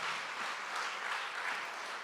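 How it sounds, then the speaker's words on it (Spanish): A church congregation claps for the Lord, a faint, even patter of many hands heard from a distance. "Dale un aplauso al Señor"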